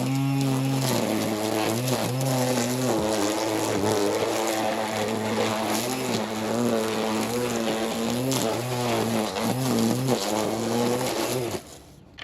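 A VARSK 20V 12-inch cordless string trimmer spins its cutting line with a loud, close, steady motor whine whose pitch wavers slightly, running continuously before cutting off just at the end.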